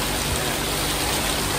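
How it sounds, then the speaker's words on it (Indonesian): Heavy rain pours steadily in a dense, even hiss, loud and close, with no talking. "Hujan berat banget."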